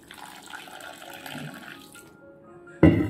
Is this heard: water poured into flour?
yes